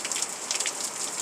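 Rain falls during a wet Wednesday evening storm in July, making a soft, continuous patter of drops on surfaces with small irregular splashes throughout.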